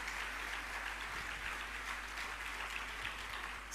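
A church congregation claps loudly together in praise during a Telugu worship service, a dense, steady wash of hand clapping sustained throughout without pause.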